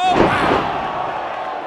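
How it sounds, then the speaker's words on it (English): A wrestler is side-slammed onto the ring mat at a House of Honour wrestling event, with a heavy thud followed by the roar of a crowd and voices shouting. "What a side slamming right now."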